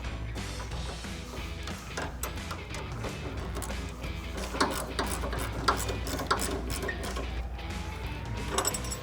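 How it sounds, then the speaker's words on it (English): Quarter-inch drive ratchet with a 9mm socket tightening a nut on a Chevrolet Silverado 1500 suspension lift install, giving a steady run of close, loud clicking with a few sharper metallic knocks and no talk. "grab our 1/4-inch ratchet with our 9mm socket and tighten it"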